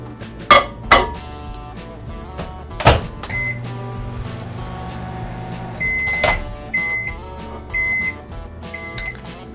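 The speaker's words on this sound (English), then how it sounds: "And back in the microwave." A microwave oven runs with a steady low hum while chocolate melts inside, with a few sharp clunks and clatters near the start and a series of short electronic beeps toward the end.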